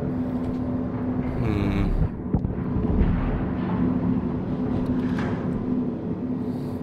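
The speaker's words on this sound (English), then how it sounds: "but another explosion comes to kill me, and therefore annoy me" Rumbling blasts in the video game INSIDE, a continuous loud low roar with a heavier boom near the two-second mark and a steady droning hum throughout, no voices.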